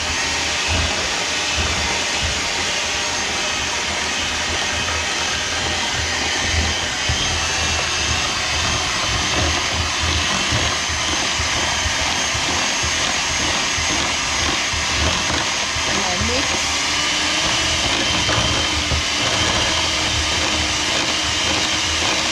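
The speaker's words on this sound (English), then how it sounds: "And then I get my electrical mixer." An electric mixer set on a low speed whirs steadily and loudly, working butter into cheesecake crumbles for a German cheesecake, a continuous motor drone with faint rattling.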